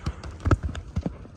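Horse hooves clip-clop in quick, uneven strikes as a horse runs at an event in Jalal-Abad, close and fairly loud, with a faint background of voices.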